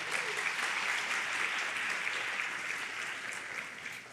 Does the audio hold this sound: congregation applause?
yes